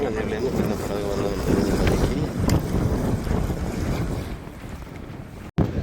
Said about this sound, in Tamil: இப்போ அங்கே படகு பார்த்தீங்கன்னா கன்னியமங்கல் ஜெட்டிலேருந்து பயணத்தை ஆரம்பிச்சிருக்குது எழுவதீவை நோக்கி.